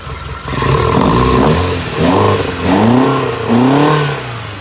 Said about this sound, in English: I guess I could give it a little rev up so you can see.